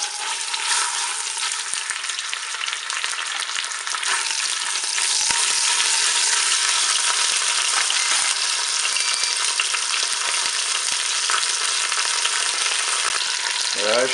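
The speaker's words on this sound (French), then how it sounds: "je vais quand même commencer à faire dorer mon rôti sur toutes ses faces" Pork roast browning in olive oil inside a Cookeo multicooker, a loud, dense, continuous sizzle heard close up and unbroken throughout, with no talking.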